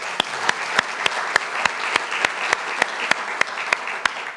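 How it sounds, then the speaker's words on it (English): An audience at a climate change panel event in Melbourne applauds a panellist, a steady wash of many hands clapping at moderate volume, with regular sharp clicks running evenly throughout. "A round of applause for Stephanie."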